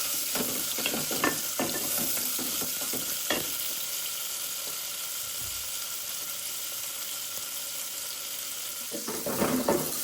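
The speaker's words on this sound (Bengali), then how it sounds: "এখানে আমি চিংড়ি মাছের যে ইয়েগুলো দিয়েছি সবগুলো সুন্দর করে ভাজা ভাজা করে নিচ্ছি" Shrimp pieces frying with onion and spices in a pan, with a steady bright sizzle broken by a few clattering stirs near the start and the end, close with no talk.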